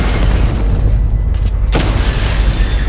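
A loud, deep, sustained boom from a tank in Batman: Arkham Knight, rumbling throughout, with a sharp burst partway through.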